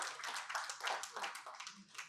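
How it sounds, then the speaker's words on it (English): Quiet, fairly dense clapping from an audience welcomes a keynote speaker at an annual lecture on tax reform, heard faintly and from a distance throughout. "Round of applause for him, please."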